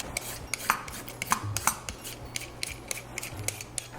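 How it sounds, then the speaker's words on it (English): A regular potato peeler scrapes the skin off sweet potatoes in quick, uneven strokes, close and fairly quiet, with no talking. "I like to just use a regular potato peeler. We're just gonna get the peel off of it"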